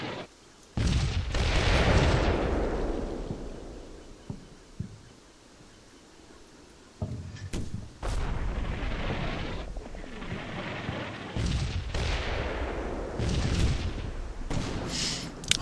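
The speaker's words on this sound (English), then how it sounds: "So the mortar fire is going along quite nicely." Mortar rounds in the Combat Mission war game go off in a series of deep, rumbling booms, roughly half a dozen heavy blasts spaced out with long, fading rolls of thunder between them.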